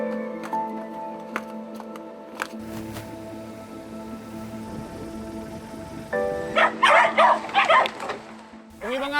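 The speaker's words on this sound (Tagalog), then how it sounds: "Yung ibang aso, nagsasalubungan na agad, gutom na gutom." Hungry dogs on an island crowd together for food, barking and yipping near and far in scattered bursts, growing busier toward the end, with a voice talking over them.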